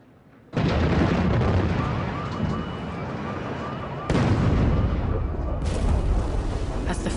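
Bombs exploding over Baghdad hit with a sudden, massive blast that swells into a long, dense roar of rumbling detonations, with fresh surges of booming layered on top later.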